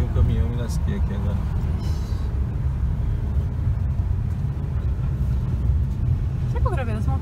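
Truck engine rumbling steadily on the Serra do Rio do Rastro mountain road in Brazil, a continuous low, loud drone heard up close throughout, with a person talking over it.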